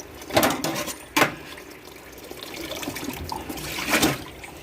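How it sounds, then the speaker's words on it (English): Water splashing and trickling as raw turkey neck is washed with lime in a kitchen, a few soft bursts of running and splashing water at a moderate distance with quieter dribbling between. "so I wash it properly with the lime"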